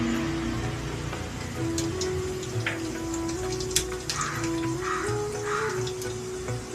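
Mustard seeds, cumin and dried chillies sizzle in hot oil, a steady crackling spatter with brief pops and a faint background hum, fairly quiet and without voices.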